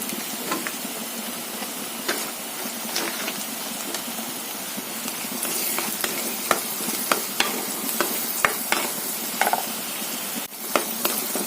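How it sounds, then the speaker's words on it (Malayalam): Onions sautéing in a pan for a drumstick leaf (moringa) stir-fry, with a steady close sizzle and the repeated scrape and clack of a spoon stirring through the pan. "ഉള്ളി വഴണ്ട് വരുന്നതേ ഉള്ളൂ"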